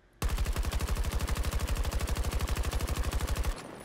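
Automatic rifle fire in Battlefield 2042, one unbroken burst of rapid, evenly spaced shots lasting about three seconds, loud and close, cutting off abruptly into quiet.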